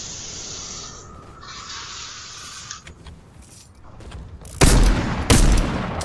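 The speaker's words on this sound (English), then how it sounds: "I hear shooting." Video game gunfire bursts out loudly in two heavy, booming volleys near the end, following a stretch of hissing, whooshing in-game ambience.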